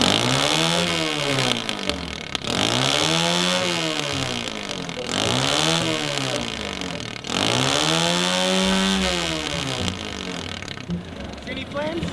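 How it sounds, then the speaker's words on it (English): A vehicle engine rigged to shoot exhaust flames, revved hard with the spark held, in four loud rising-and-falling rev sweeps that run back to back with barely a pause. "I'm gonna hold the spark and then give it some revs."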